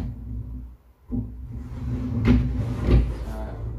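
A drawer on a minimalist TV backdrop cabinet slides open and shut, giving a couple of close wooden knocks and rumbling glides over a steady room hum.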